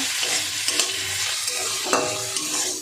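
Chhana frying in ghee while being stirred, a continuous close sizzle with soft scraping strokes of a spatula, steady and without any talk.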